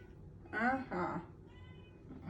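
A cat meows twice in quick succession, close and fairly loud, followed by a fainter third meow against quiet room noise.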